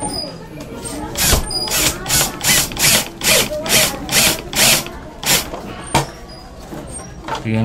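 A power driver sinks a black screw with scraper tip into Hardiflex fiber cement board in rapid, pulsing bursts of loud whirring, about a dozen surges in quick rhythm, close up.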